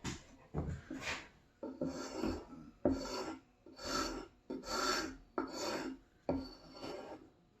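Spokeshave with a restored iron cutting wood, seven rhythmic rasping strokes with short pauses between them, close and fairly quiet.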